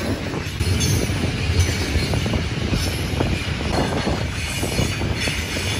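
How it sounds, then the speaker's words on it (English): An iron ore train rolls past close by with a continuous heavy rumble of wagons and wheels on the rails, loud and steady the whole time. "Whoa, look, it's the iron ore train."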